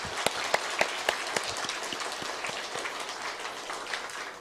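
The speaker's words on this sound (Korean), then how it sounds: "우리 1년 동안 수고하신 우리 지휘자, 반주자, 우리 찬양대원들을 우리 모두에게 우리 한번 감사의 박수 하겠습니다." A church congregation applauds its choir, conductor and accompanist at a year-end service, a steady wash of many hands clapping with a few sharper claps standing out near the start.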